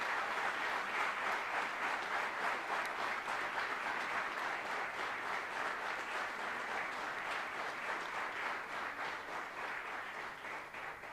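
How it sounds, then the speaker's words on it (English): A conference audience at a mining event in Ranchi bursts into sustained, loud applause, dense clapping filling the hall steadily for about eleven seconds and tapering slightly at the end. "I request all of you for a big round of applause"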